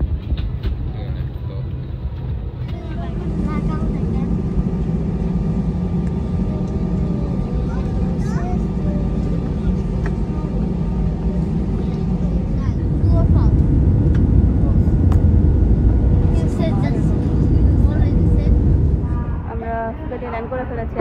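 Cabin noise of an airplane landing, heard from a passenger seat: a steady loud low roar and rumble that swells briefly near the end, then eases as the aircraft slows, with faint voices.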